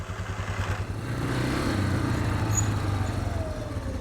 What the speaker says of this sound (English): we can unhook the wire rope and wind it back onto the winch